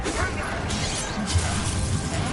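A short, dense crash of blasting noise sounds from the Bombarda spell in Hogwarts Legacy, with whooshing and debris packed close together for about two seconds.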